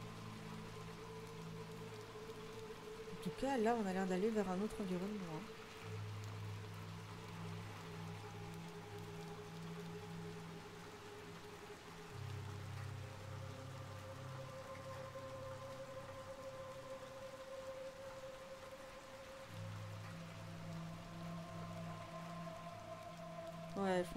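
Steady rainfall in the video game Little Nightmares II, a soft continuous hiss under the game's low tonal ambience, with someone speaking briefly over it.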